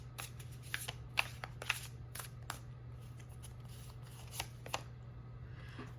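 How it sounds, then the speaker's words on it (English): Tarot cards are shuffled by hand, giving soft, irregular riffling clicks and taps. They sound faint and close over a steady low hum, with no talking. "I'm putting them back. I'm shuffling."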